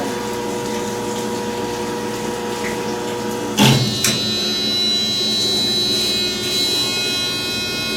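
A commercial dishwasher at a fire house runs a hot wash cycle, a steady pumping whir and hum with water churning, broken by one sharp clunk partway through.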